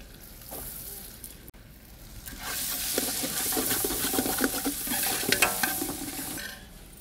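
Onions are tossed into a pan where garlic is turning golden, bringing a sudden burst of loud crackling sizzle that holds steady, with scraping stir clicks over a faint background hum.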